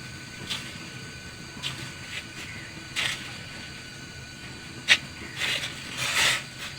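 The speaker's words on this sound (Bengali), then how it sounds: "সব চিকেন বলগুলো দিয়ে আমি 7-8 মিনিট আমি বয়েল করে নেব।" Chicken balls simmer in a pot of boiling water, giving a faint, steady hiss with scattered soft bubbling bursts and pops, heard close up with no voices.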